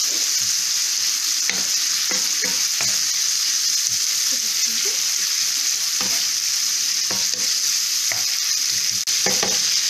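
Bacon lardons fry in a pan while being stirred, a steady, close, loud sizzle running throughout, punctuated by irregular scraping clicks from the utensil, with no voices.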